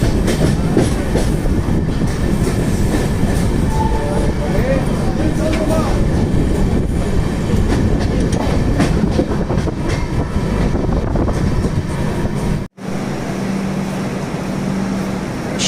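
The Deccan Queen passenger train runs on the rails near Pune, a continuous loud rolling rumble with clattering wheels heard from onboard, briefly dropping out near the end before resuming with a steady tone.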